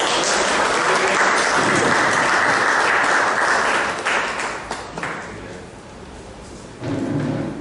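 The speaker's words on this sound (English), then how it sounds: "Please welcome with a round of applause for" Audience applause at a Rotary Club meeting in Mumbai Kandivali West, a dense crowd clapping steadily for several seconds, then thinning and fading before a short renewed burst near the end.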